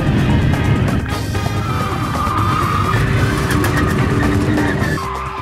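A Fiat Coupe on a track screeches through a skid, tyres squealing over a loud, strained engine roar. Steady and close, with a sharp clunk near the end.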